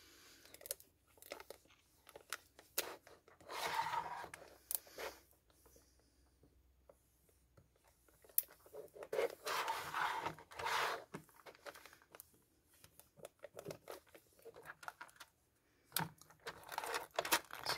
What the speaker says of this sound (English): I am almost burnishing this